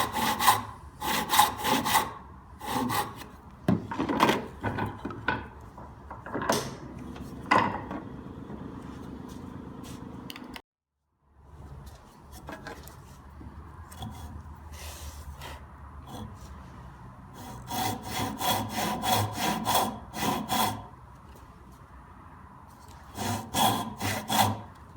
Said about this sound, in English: And then just saw away at what's left.